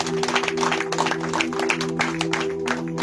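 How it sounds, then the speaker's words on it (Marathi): Audience clapping at a Marathi Christian sermon, a dense crackle of many hands over a sustained tonal hum, steady and fairly loud throughout. "जोरदार टाळ्या वाजल्या पाहिजेत."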